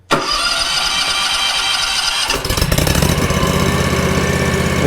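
A John Deere Stand-On 652R zero-turn mower's engine cranks briefly, catches and settles into a steady, loud mid-pitched running drone, then rises in intensity partway through as it revs, heard up close with no voices.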